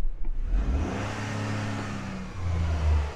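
A Toyota GR Yaris engine revving up and holding against its soft limiter, a close, loud droning rev that sustains, dips briefly, then swells again.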